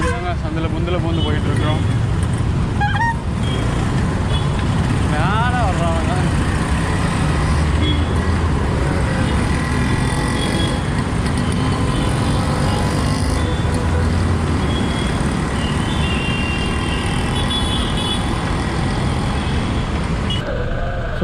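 Steady road traffic in India rumbles throughout as a bicycle weaves through it, engines and tyres passing close by in a dense, continuous wash, with voices talking over it at times.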